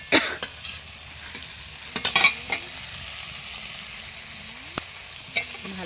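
Cumin paste fries in a pan, a moderate steady sizzle punctuated by a few sharp metallic scrapes and clinks of stirring, close by with no speech.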